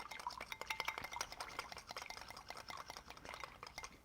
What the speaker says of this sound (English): Then I'll just whisk up my dressing.